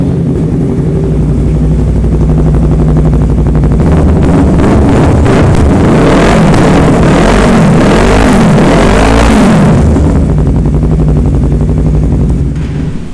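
A motorcycle engine revs hard and loud with its dB killer removed, an open, unmuffled exhaust rising to a roaring peak and settling back, with crackling pops and flames from the exhaust.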